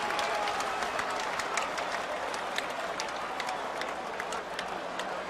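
An arena crowd at the Blaisdell roars and applauds after Robbie Lawler knocks out Falaniko Vitale at the Icon 41 MMA event: a dense, loud, steady wall of cheering and clapping with no break and no distinct voice on top.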